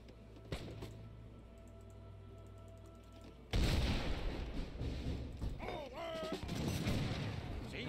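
Mortar and artillery fire booms through an Age of Empires III: Definitive Edition battle, with a quiet stretch of sparse thuds giving way to a sudden loud, dense barrage of blasts and crackling shots that keeps rolling.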